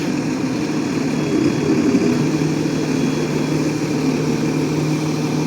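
A tractor engine drones steadily while a KUHN plough is raised into transport position in a field. The low, even rumble stays constant throughout with no voices.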